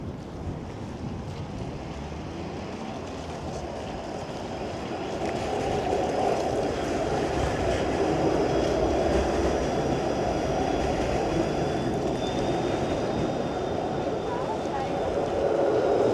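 The 504 King streetcar passes on a downtown Toronto street, a low continuous rumble that swells and holds steady amid outdoor traffic noise and wind buffeting the microphone.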